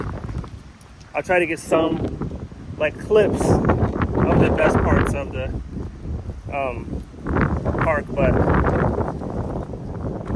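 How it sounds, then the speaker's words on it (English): Wind buffets the microphone in low rumbling gusts outdoors near a lake in Kansas City while someone talks steadily over it. "Sorry if you can't hear me much too, because it's pretty windy outside as well."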